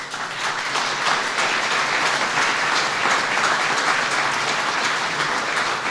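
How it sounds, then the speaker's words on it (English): An audience of veterans at a speech by the Vice President gives a sustained, loud round of applause, thick and continuous crowd clapping that holds at a steady level for about six seconds with no voice over it. "Let's give him a big round of applause."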